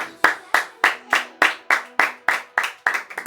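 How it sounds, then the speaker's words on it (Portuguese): A church congregation at a Sunday service claps for Jesus in a steady, evenly spaced rhythm, about a dozen loud, sharp collective claps with a ringing room echo, a few quicker claps at the end. "As palmas para Jesus."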